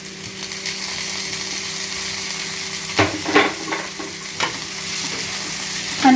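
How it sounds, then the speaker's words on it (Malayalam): Tomatoes with curry leaves sizzle steadily in a hot pan for prawn roast, with several louder scraping stirs of a spatula in the middle and near the end; no one speaks. "നല്ലതുപോലെ ഇത് നമുക്ക് വഴറ്റിയെടുക്കാം."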